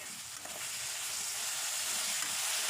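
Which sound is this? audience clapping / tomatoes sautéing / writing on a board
tomatoes sautéing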